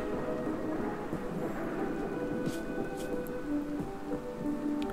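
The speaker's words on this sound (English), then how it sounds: "It's going to be a rainy thunderstorm for 19 days." Steady rain with distant rumbles of thunder during a long thunderstorm in the colony-building video game RimWorld, a continuous even wash of rainfall with low rolls underneath and no voices.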